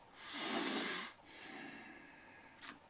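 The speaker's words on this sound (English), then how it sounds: "I'm breathing here" A person breathes in a long, airy inhale followed by a softer, longer exhale, close to the microphone, with a brief sniff at the end and no talk.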